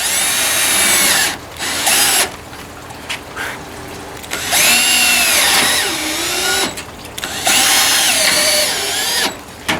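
Power drill driving 5/16-inch self-piloting, one-inch screws through a screen door top plate, several loud whining bursts that rise and stop, separated by short pauses, close up with no talk.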